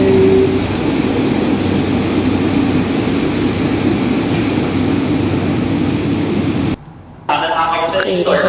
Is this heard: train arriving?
yes